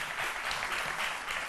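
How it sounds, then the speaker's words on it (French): Studio audience applauds in a soft, brief, continuous patter, faint and steady throughout. "On applaudit encore une fois pour encourager Zongo et Jean-Michel."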